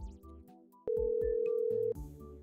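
A telephone ringtone played from a command-line soundboard: a single bright electronic tone holds for about one second, loud and steady, amid faint clicking and room noise.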